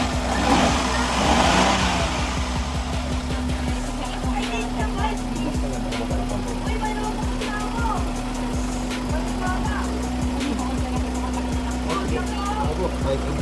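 Hyundai Eon engine revving as the RPM rises, a close mid-pitched drone with a steady hum and rapid ticking pulses, continuous for over ten seconds with a louder stretch near the start and talk over it.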